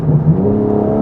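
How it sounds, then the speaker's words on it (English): A BMW G8x M3/M4 with downpipes, a Supersprint J pipe and rear exhaust cruises in top gear at 70 mph, giving a loud, steady low exhaust tone with a faint higher whine. "my favorite sound setup, is the downpipes, the Supersprint J pipe, and the rear exhaust"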